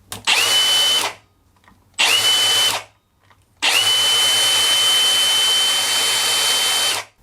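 A Milwaukee cordless angle grinder with trigger handle, variable speed and rapid stop running on a standard battery: loud, close high-pitched whine in three bursts, two short spin-ups with quick stops, then a longer sustained run.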